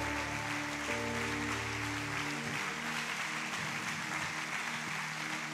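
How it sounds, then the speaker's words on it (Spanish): A church congregation applauds continuously during a Sunday service, a broad, steady wash of clapping that fills the whole stretch, with sustained organ or keyboard tones underneath at first. "Y le damos un aplauso al Señor."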